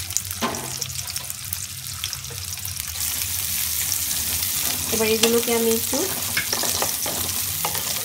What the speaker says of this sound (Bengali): পেঁয়াজ রসুনটা যখন এরকম ভাজা হয়ে গেছে